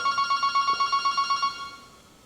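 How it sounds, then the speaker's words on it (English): A landline telephone rings in a workshop with a rapid warbling electronic trill, roughly a dozen evenly pulsed bursts at steady loudness that stop abruptly, leaving a brief quiet tail. "before we were rudely interrupted by the phone"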